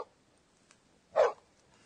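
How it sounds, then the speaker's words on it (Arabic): A dog gives one short, clear bark, heard alone and close, with near silence before and after. "نباح الكلب"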